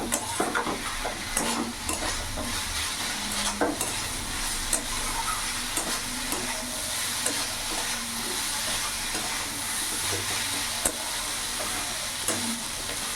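Fenugreek greens and boiled potatoes fry in a pan over a raised gas flame while being stirred, making a constant sizzle and hiss. Frequent spatula scrapes and clicks punctuate it, and there is no talking.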